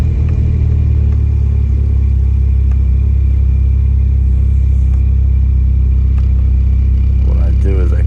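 A Can-Am Spyder AWD three-wheeler with newly replaced end clutches cruises in fourth gear, its steady low engine rumble and road noise continuous throughout, with a brief higher whine near the end.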